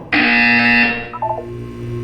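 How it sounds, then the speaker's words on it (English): A loud electronic buzzer blares for about a second in the video game Portal 2, then cuts off into a short trailing chime and a faint background hum. "When you hear the buzzer, look down at the floor."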